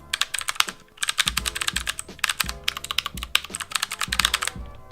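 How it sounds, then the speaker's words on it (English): Rapid typing on an AUKEY mechanical keyboard: loud, close, crisp clacking keystrokes in quick irregular bursts with brief pauses, with the low thud of bottoming-out keys under the sharp clicks. "So a benefit to using this keyboard is you could be doing absolutely nothing and it will sound like you're doing a lot."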